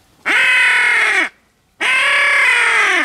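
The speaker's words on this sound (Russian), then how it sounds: "Вот-вот-вот ворона." Two loud, drawn-out crow caws sound close by, separated by a short pause, during a spring drake hunt on the Oka River.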